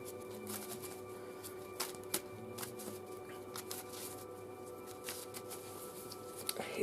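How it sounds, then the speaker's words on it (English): A tarot card deck being shuffled by hand, giving quiet, close riffling and soft card slaps at an even pace over faint room noise. "So let's give a last minute shuffle, and we'll pick our first card"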